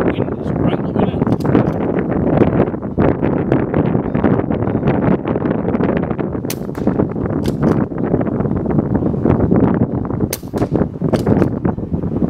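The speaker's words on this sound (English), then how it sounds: "That wind is right up in it." Strong gusty wind buffeting outdoors at an air rifle range, a continuous roaring rush with sharp pops and crackles, loud and close throughout.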